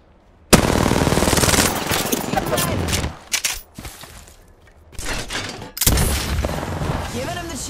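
Heavy automatic gunfire in Apex Legends, loud sustained bursts of rapid shots with brief pauses between volleys, close and dominant throughout.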